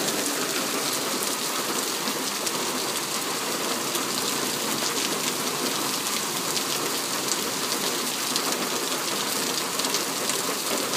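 Heavy rain falls right after a June hailstorm, big raindrops pattering steadily and loudly on surfaces among buildings, a dense continuous wash with no voices.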